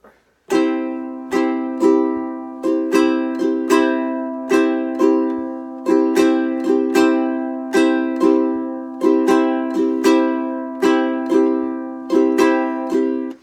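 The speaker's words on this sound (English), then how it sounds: "And when you put it on your ukulele," A ukulele is strummed alone in a steady rhythmic pattern of down and up strokes, repeating a chord cycle, bright and close.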